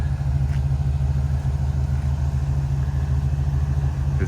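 A 1941 Chevrolet pickup's engine idles close by, a steady, even low rumble with a fine regular pulse and no speech over it.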